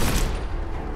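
Minigun blazing nonstop at super mutants in a modded Fallout-style game, a dense unbroken roar of rapid gunfire filling the whole moment, loud and close with no pauses.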